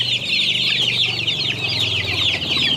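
Joper chickens cluck busily and continuously while feeding on a mixed feed ration, a close, dense flock chorus with layered overlapping calls and no talk.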